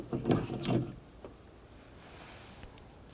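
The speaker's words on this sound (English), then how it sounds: "take a 10mm socket. Take this bolt out right here." A 10mm socket wrench removes a bolt inside the door of a 2007-16 GMC Acadia while replacing the window regulator, with a few close ratcheting clicks and clunks at the start, then quiet with a faint tick.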